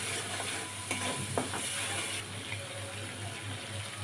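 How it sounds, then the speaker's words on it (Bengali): Spice paste for prawn curry stir-fried in oil in a pan, a faint low sizzle with soft spatula scrapes and a watery hiss beneath, heard close and without voices. "আর একটু মশলাটাকে আমি কষিয়ে নিচ্ছি"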